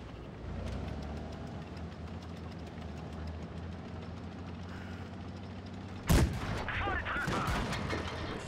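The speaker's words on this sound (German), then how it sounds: "Der muss ja nur ein paar Mal auf uns drauf schießen." Tank cannon fire in World of Tanks Blitz: a single loud, sharp blast lands late over a steady rumbling engine drone, followed by a crackling, busy tail of battle noise.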